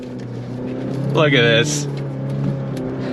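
A 2024 Chevrolet Colorado ZR2 Bison with a 2.7-liter turbocharged engine drives on throttle through soft sugar sand, its engine note rising in a brief surge under steady road noise while someone talks over it.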